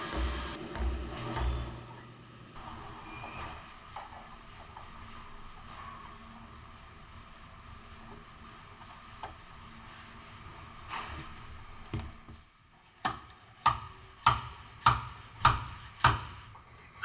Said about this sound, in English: I'm really happy with the way the dent puller is performing